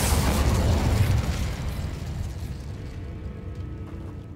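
A booming fiery burst from the Incendio spell in Hogwarts Legacy, loud and roaring at first, then thinning into a crackling, fading rumble over a few seconds.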